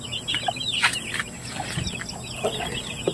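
Free-range Basilan and Aseel chickens cluck softly and intermittently nearby, with a few short sharper calls scattered over a low rustling background.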